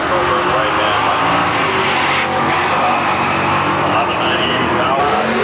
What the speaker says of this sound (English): Good running little pickup truck over in the right-hand lane.